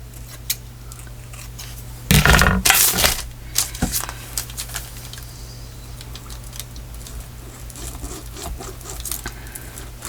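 Scissors trim a frayed lace edge on a handmade journal, giving a burst of close rough snipping and rubbing around the middle, then scattered small clicks and scrapes against a low steady hum.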